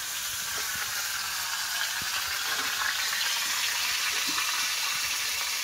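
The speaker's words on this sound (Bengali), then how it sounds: "তেল দিয়ে দেবো মাথা।" Katla fish head frying in hot oil with a pond-caught katla, giving a steady, even crackling sizzle that stays at one level throughout, with no voices.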